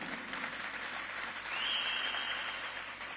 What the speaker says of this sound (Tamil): நம்முடைய பாராட்டுகளை கைத்தட்டல் மூலம் தெரிவிப்போம்